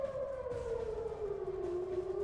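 An air raid siren wails in Israel. A single sustained tone glides slowly downward in pitch, fairly faint and distant, with no talking.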